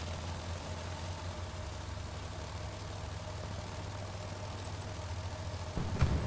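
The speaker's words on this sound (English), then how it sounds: "your players are going to hear that engine" A supply truck engine in the video game Hell Let Loose rumbles at a steady low idle throughout, moderately close, with a brief bump at the end and no voices.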